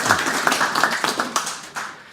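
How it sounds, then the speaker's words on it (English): A small audience claps for a guest, with distinct individual hand claps forming a quick, uneven patter rather than a dense roar, fairly close and tapering toward the end. "A big round of applause for David."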